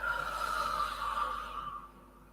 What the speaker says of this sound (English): Breathe in, nice big long in breath, long out breath.